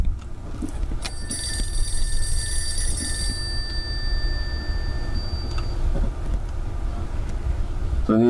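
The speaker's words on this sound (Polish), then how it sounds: "To nie jest naturalne, że telefon dzwoni." A telephone rings repeatedly inside the horror game Room 404, its bright metallic bell tones loud for the first few seconds, then fading under steady low game ambience with brief thuds.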